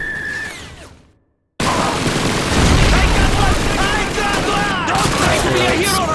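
A tank shell blast in the World War II game Call of Duty 2 at Stalingrad: a brief tone, a sudden drop to silence, then a loud roaring burst of rumbling explosions and gunfire that continues to the end.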